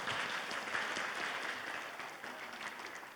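Applause at an Islamic school's end-of-year graduation ceremony: an even, fairly faint wash of many hands clapping that holds steady for about three seconds, then slowly fades.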